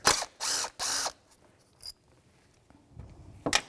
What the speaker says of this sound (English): take off the mounting bolt